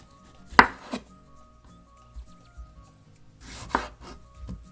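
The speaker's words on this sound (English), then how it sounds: "So now I'm just gonna cut these tomatoes into like little bite-sized pieces" Knife chopping tomatoes into bite-sized pieces on a board for a Sudanese tomato and peanut butter salad, with a sharp close chop early, a second smaller one, then a cluster of chops later, quiet gaps between.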